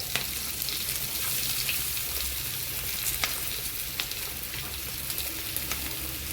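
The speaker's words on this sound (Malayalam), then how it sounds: "വെളുത്തുള്ളി സവാള കറി മസാല ഇതെല്ലാം കൂടെ ഇട്ടിട്ട് എണ്ണയിൽ മൂപ്പിച്ചെടുക്കുന്നു" Garlic, onion, curry masala and grated coconut fry in oil in a pan for a chicken curry, a dense, even hiss of sizzling close up with occasional light stirring clicks and no voices.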